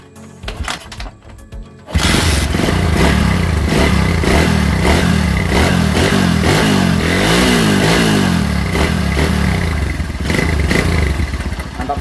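A carbureted motorcycle engine cranks with a few uneven clattering attempts, then catches and runs loud and close, revving up and down with rattling mechanical clatter after its carburetor tuning.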